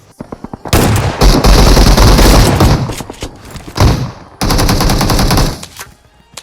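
Loud automatic gunfire in the BGMI shooter game: sustained machine-gun bursts, one long stretch then a brief pause and a second long burst, close and dominant, with sparse single shots around them.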